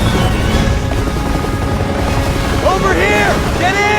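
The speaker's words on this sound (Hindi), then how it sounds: "ओके सामने हेलीकॉप्टर भी है।" In Resident Evil 6, a helicopter's rotor throbs as a loud, steady mechanical rumble. Brief rising and falling tonal sweeps from the game appear near the end.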